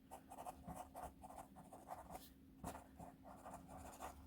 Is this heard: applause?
no